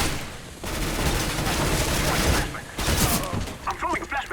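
Gunfire in the video game Counter-Strike: Global Offensive, dense bursts of rapid in-game shooting with bangs and clatter filling the clip, loud and continuous, with players' voices talking over it.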